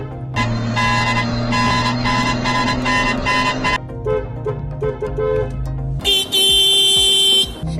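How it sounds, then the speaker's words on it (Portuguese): A car horn honks repeatedly, loud and close, as a car pulls up at a collision center auto body shop in the USA, with sustained blasts and a final long high honk over engine and street noise. "vamos chegar buzinando, ó."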